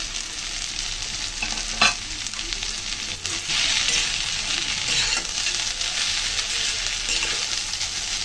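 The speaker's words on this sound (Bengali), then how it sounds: "সব কিছু দিয়ে ভালো করে নেড়ে চেড়ে মিশিয়ে নেব।" Pasta being stirred and mixed in a pan with a little water, a continuous close frying hiss with scraping spoon strokes and one sharper knock early on, no voices.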